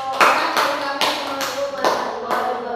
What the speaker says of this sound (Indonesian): Tepuk tangan buat Mas Rizky dan Mas Rio.